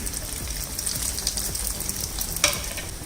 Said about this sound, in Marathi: तेल तापलं की गॅस बारीक करायचा आहे आणि आता पॅटीस फ्राय करायला ठेवायची.